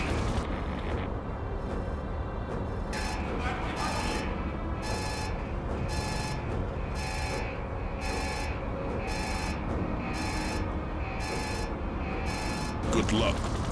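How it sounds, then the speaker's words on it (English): Base alarms blaring in the PC shooter Soldier of Fortune (2000), a steady repeating pulsed tone that runs nearly throughout, loud over dense game noise and rumble. "The bad news is I've triggered every alarm in the base."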